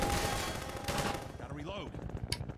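Gunfire from Half-Life 2: Episode Two, a dense stretch of rapid shots and blasts filling the first half, thinning into scattered bursts with brief voice-like sounds under it.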